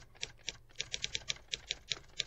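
A typewriter clacks at a quiet level, sounding about a dozen crisp key strikes in an uneven typing rhythm with short pauses between bursts.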